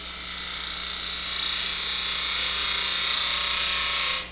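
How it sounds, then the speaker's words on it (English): Parting tool cutting into the base of a wooden twig pot spinning on a lathe, a steady high-pitched hiss and whine held for about four seconds close up, then cutting off abruptly. "When I make this cut on the base of the piece, I'm going to try to be as perpendicular to my lathe bed as possible."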